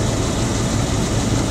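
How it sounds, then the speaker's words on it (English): A Rolls-Royce car's engine runs steadily at idle, a low continuous rumble with a constant hum, close by and alone with no voices. "So this is how she sounds with the engine running."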